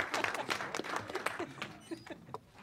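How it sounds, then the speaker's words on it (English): People clap at a budget meeting, a short, quiet round of scattered, irregular hand claps from a small group that tapers off within a few seconds. "Let's give Clay a round of applause."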